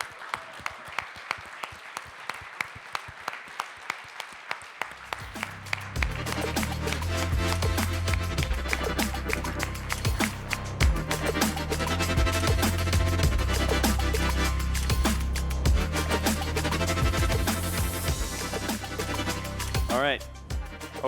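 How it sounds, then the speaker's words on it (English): An audience at a startup competition finals breaks into loud sustained applause for the finalist startups. A few seconds of scattered clapping swell into a dense, continuous ovation with music underneath, lasting for most of the stretch. "Big round of applause."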